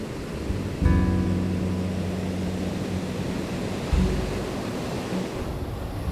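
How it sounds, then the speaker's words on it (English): Big waves of an incoming winter tide on the Cornwall coast make a steady, broad roar of surf and wind, with a heavier surge near the start and another partway through, and no voices. "The tide is coming in and the waves scared. are pretty big."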